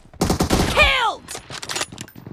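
Video game M24 sniper rifle gunfire: a cluster of sharp, loud shots with a ringing tail, followed by softer clatter and game sounds.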